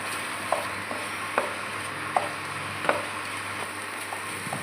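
Raw mango jelly cooks in a pan under a soft, continuous sizzle. A spoon taps or scrapes about once a second, in an even stirring rhythm, with no voices.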